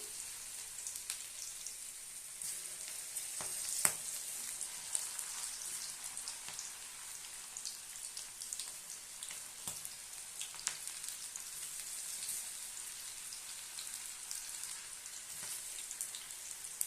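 Okra (ladies finger) fries in hot oil in a kadai over a medium flame for a chilli dish. A continuous soft, hissing sizzle runs throughout, with a few faint crackles and no voices.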